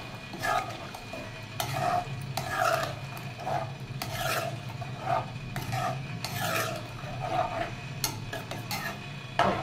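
An egg and dry prawn curry with tamarind juice is stirred in a pan, the spoon scraping the bottom in repeated rhythmic strokes over a low bubbling simmer, close and without talk.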